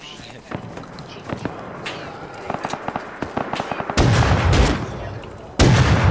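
Gunfire in a multiplayer video game is aimed at the player, with rapid cracking shots and bursts that swell into loud heavy volleys, while players talk over it.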